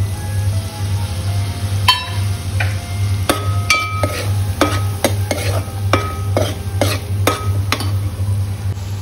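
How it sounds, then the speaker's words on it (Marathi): Cleaned crab pieces fry in spiced oil while being stirred, a low sizzle running underneath repeated sharp clinks and scrapes of a utensil against the pan. "आता मी याच्यामध्ये टाकते चिंबोऱ्या साफ केलेल्या आणि मिक्स करते"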